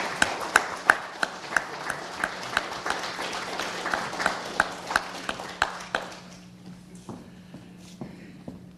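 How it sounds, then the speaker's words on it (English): Scattered clapping from a small crowd at an athletic hall of fame induction ceremony, with sharp individual claps standing out, gradually thinning and fading to a few isolated claps near the end. "let's give them a big round of applause as they join us on stage"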